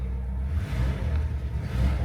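A 1964 Lincoln Continental engine idles smoothly and quietly after starting, with a steady low rumble that rises slightly in places, heard alone without talk.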